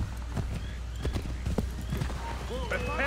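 A horse in Assassin's Creed 3 gallops with steady clip-clopping hooves, then a neigh rises near the end, heard beneath a person talking.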